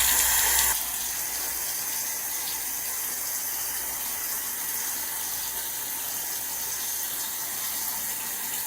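Water from a tap running steadily while a face mask is rinsed off, a continuous close hiss with a brief louder splash at the very start, no voices.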